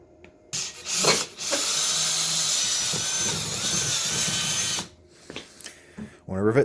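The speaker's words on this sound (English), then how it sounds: "First thing I have to do is drill this out." A power drill bores out a rivet on a van's sliding door roller bracket, a loud steady whine running for about four seconds after a short burst, then stopping before someone speaks.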